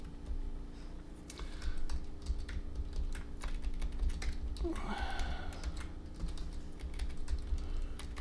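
Rapid keyboard typing clicks away steadily, close by, over a low background hum.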